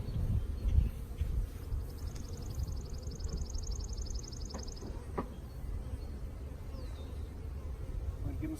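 Honeybees buzzing around a hive frame during a colony split, a low continuous hum with a faint bird trill above it, quiet and steady.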